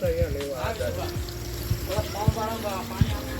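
Water pours and splashes into containers being filled at a drinking-water plant, a steady trickle and gurgle with scattered clunks, close by and fairly soft, with someone talking over it.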